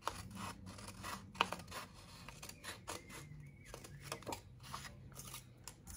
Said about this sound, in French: je coupe donc les deux premiers rectangles en partant du haut